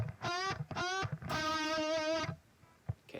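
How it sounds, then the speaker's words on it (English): A short distorted electric guitar riff: two quick stabbed notes, then a longer held, wavering note, played close and loud before fading out. "The main riff that comes along is going to sound like this."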